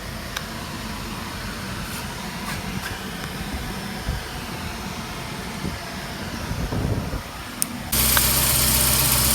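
Car engine fitted with a Racing Beat header, started up and running steadily after installation, a continuous mid-range rumble that swells near the end and then holds as a louder, brighter idle.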